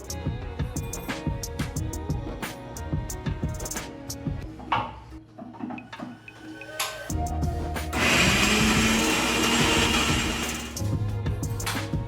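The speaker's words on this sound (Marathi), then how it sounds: "मी आता आलं आणि लसणाची पेस्ट करून घेतली" A mixer grinder blends ginger and garlic into a paste. After quieter clatter over background music, a loud, steady, close whirring burst takes over in the second half, then drops back.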